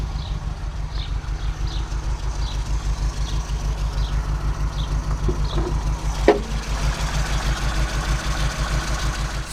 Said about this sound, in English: I would try to start the engine and drive a little bit